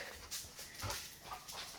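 A pet dog whimpers and pants in short, close, soft bursts, with faint breathy yips scattered across a quiet outdoor morning scene.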